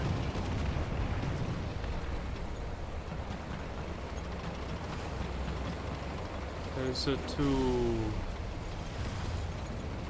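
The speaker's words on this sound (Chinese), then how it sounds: "我听到一个大大大大大炮的声音" Big cannon fire in the combat game War Thunder, during a Junkers bomber match: heavy, rumbling booms within dense battle noise, with someone talking over it.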